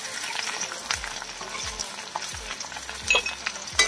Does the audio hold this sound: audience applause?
no